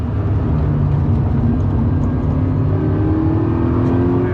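A high-mileage used Toyota 86 on Michelin PS4 tyres running a timed attack lap at a circuit, its engine droning loud and steady throughout with a rising pitch under load.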